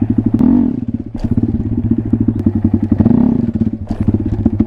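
A Honda Grom motorcycle runs close by during wheelie practice, its small engine giving a rapid, even putter. Two swelling revs mark the front wheel lifts, and light clatter and thumps come in between.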